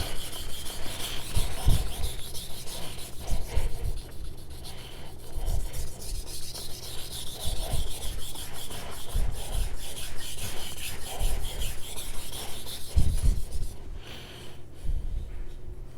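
Knife blade rubbed back and forth across a Japanese whetstone, a natural Red Aoto or synthetic Naniwa, with steady rasping strokes close up and continuous throughout, with no speech.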